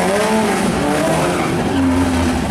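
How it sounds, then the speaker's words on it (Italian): A hill climb race car at the 2019 Rivanazzano Hills Race screams loud and close, its engine wailing at high revs in a continuous shifting howl with no pause. "motore non romba, urla il maggiorino"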